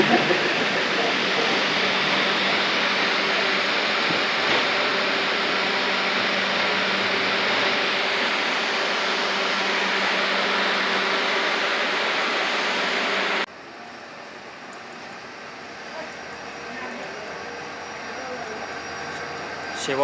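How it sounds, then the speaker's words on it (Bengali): The Alipurduar–Siliguri Vistadome train rolls into platform two at Sivok station with a loud, steady rushing rumble that cuts off abruptly to quieter station ambience, with voices faintly present. "স্টেশনের দু নম্বর প্ল্যাটফর্মে এসছে আলিপুরদুয়ার শিলিগুড়ি ভিস্তাটম ট্রেন"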